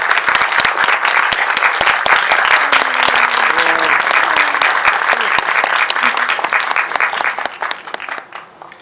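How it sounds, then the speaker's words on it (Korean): An audience at a Korean film screening Q&A gives steady, dense applause to welcome a director and an actress, loud and sustained for several seconds before thinning out at the end, with a voice faintly heard beneath the clapping. "두 분 큰 박수로 맞이해주세요."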